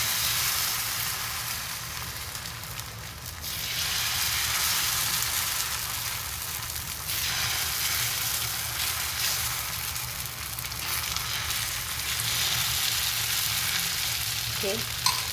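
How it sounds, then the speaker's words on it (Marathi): Fasting-style dosa batter sizzles steadily on a hot pan, a dense continuous frying hiss that holds up close for the whole stretch with small shifts in intensity and no talking. "आपलं पॅन जे आहे ते गरम झालं आहे. सो मी डोसे घालायला सुरुवात करते."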